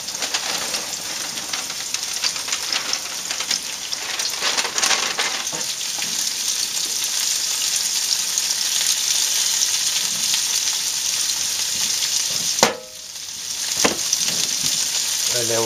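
Green beans and garlic sizzle and crackle loudly in a pan alongside pork tenderloin, a dense steady frying hiss up close with a few stirring clatters.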